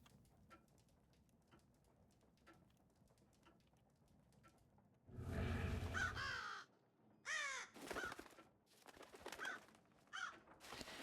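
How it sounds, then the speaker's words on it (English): A bird caws and calls in the stealth video game Thief, with a few harsh crow-like calls heard close and loud over a quiet ambient background after several seconds of near silence. "Hey, there's a bird out here making noise."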